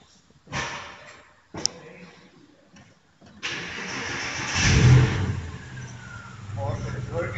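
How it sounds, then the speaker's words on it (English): A 2006 Porsche Boxster starts up after a few clicks and brief sounds, then settles into a steady idle with a surge near the start; a voice talks briefly before it catches. "Right now we will start the Porsche. It's a Boxster from 2006"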